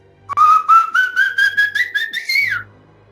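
A single clear whistle of the Silbón, the legendary whistling spirit of Guanare, Venezuela, rising steadily in pitch over about two seconds with a wavering, pulsing quality, then sliding down at the end, loud and close against a faint low hum.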